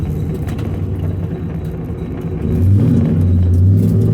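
A 5.3 LS-swapped third-generation Camaro on Holley Sniper EFI leaves on a trans-brake launch at 3,000 RPM: a steady heavy engine rumble that swells louder midway as the revs climb and the tires spin, with no talk.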